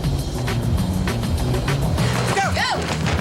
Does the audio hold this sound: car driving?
yes